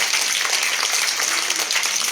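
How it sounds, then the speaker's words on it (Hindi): Loud, dense applause from an audience welcoming a guest at a Holi gathering with children, steady and continuous throughout with no talk over it. "एक बार जोरदार तालियां सर के लिए"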